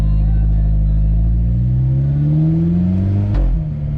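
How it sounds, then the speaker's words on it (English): An Alfa Romeo 4C Spider's engine revs loudly from inside the cabin, a deep rising drone that climbs in pitch as the car accelerates, with a brief break near the end as another gear takes hold. "the radio is nothing at the moment with how loud the car is."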